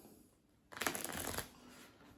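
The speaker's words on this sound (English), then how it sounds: "shuffle up these cards" Close-up riffle of an Alhambra card game deck being shuffled, a quick crisp flurry lasting under a second in a quiet room.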